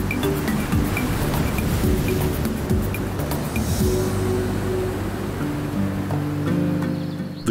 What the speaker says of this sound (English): Powerful waves are driven to the flat coastline by the winds of the Pacific Ocean.